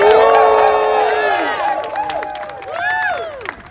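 Crowd at a rally with striking Starbucks baristas cheering, whooping and applauding, loud and sustained with overlapping rising and falling shouts.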